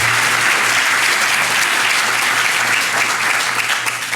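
A seated audience claps at the close of a panel session on faith and education, dense even applause filling the room steadily from start to finish with no voices.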